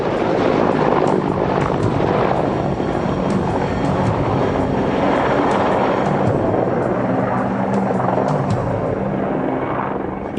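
A Mi-24 Hind military helicopter flies close by, its rotor thudding loudly and continuously with a whining engine beneath, holding steady before easing slightly at the end.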